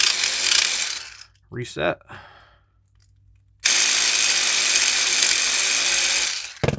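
A homemade electric lock pick gun buzzes loudly against a pin tumbler lock in two bursts, a short rattling burst, a pause, then a longer sustained whirring chatter, with a brief spoken word in the gap.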